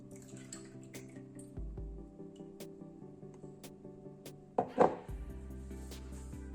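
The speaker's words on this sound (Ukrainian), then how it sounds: "зараз достатньо лише просто через сито пролити до нашої водички" Lemon juice is poured through a sieve into water, a faint, soft trickling and dripping with a brief louder splash partway through, heard close and without talk.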